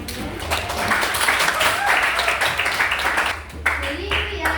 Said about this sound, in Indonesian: Kita berikan tepuk tangannya.